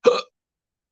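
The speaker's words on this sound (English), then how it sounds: "Oh god, I got the hiccups." A single short hiccup from an adult, close and clear, ending abruptly and followed by silence.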